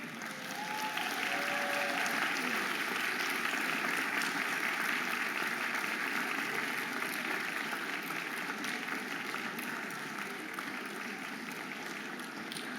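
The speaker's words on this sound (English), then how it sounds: "give them a round of applause" A large medical school commencement audience for the class of 2025 gives graduates a sustained, dense round of applause, steady and loud throughout with no voices standing out.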